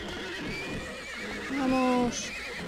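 A black horse in Disney Infinity 3.0 whinnies loudly for about half a second over a steady game soundtrack, with faint rhythmic hoofbeats beneath.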